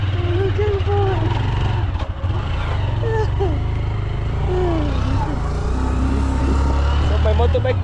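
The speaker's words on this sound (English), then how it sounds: "So my motorbike is struggling to climb over here." A struggling motorcycle engine labours steadily at low revs climbing a hill, droning loud and close throughout, with faint voices and road noise mixed in.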